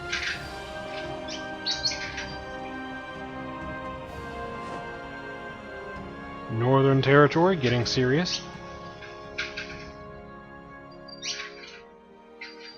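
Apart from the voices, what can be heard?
pet bird chirping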